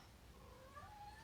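A cat lets out a soft, drawn-out meow with a rising, wavering pitch, faint and alone in a quiet space.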